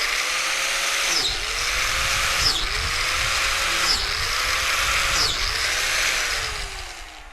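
Drilling holes into a log for growing mushrooms, a power drill whining loudly in five repeated bursts, each winding down in pitch before the next, steady and close.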